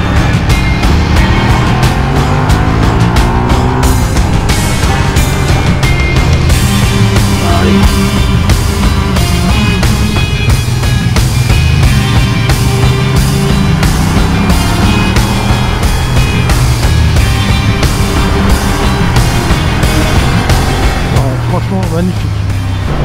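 A Ducati Diavel or XDiavel motorcycle engine revs hard and loud throughout, rising through gears with quickshifter shifts while the rider keeps on the throttle, the roar dense and close until it eases off at the very end.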